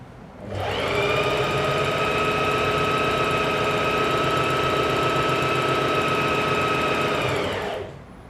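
A Singer 4423 heavy-duty sewing machine runs steadily at high speed for several seconds, a dense mechanical whir with a rough, buzzing edge, starting and stopping cleanly.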